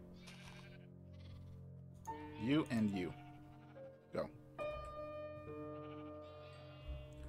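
Sheep bleat in the video game Minecraft, a couple of quick wavering bleats in the middle, while someone talks quietly over a soft background tone.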